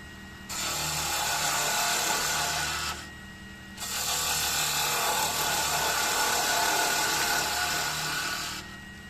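A spindle gouge cuts wood on a turning lathe, giving a loud, steady scraping hiss that runs in two long passes separated by a short pause, close by and without talk.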